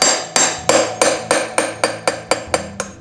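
A seal driver struck repeatedly with a hammer to seat a motorcycle wheel seal: about eleven loud, sharp metallic blows in an even, fairly quick rhythm, each ringing briefly, close and with no talk.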